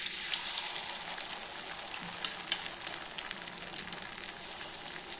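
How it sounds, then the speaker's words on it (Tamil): Appam batter of raw rice and sesame seeds poured into hot oil in a pan, giving a faint, steady sizzle with soft crackles and hiss and no speech. "இந்த எண்ணெயிலேயே அப்படியே மாவு ஊற்றிக்கலாம்."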